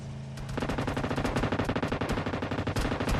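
M249 machine gun fire in the mobile battle royale game PUBG Mobile, a loud sustained automatic burst of rapid evenly spaced shots that starts abruptly after a brief pause and runs to the end.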